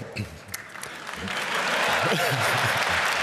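Applause builds from scattered claps into steady, full clapping from a conference crowd, with a voice briefly heard at the start.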